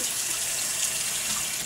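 A household faucet runs steadily into a sink with a drain plug, a continuous close hiss of water with no talk over it.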